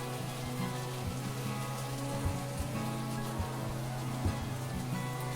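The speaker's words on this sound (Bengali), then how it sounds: "আমি একবারে সবকিছু ভেজে নিচ্ছি।" Beef noodle ingredients and an egg fry together in a pan, giving a steady, dense sizzle with a few small pops throughout.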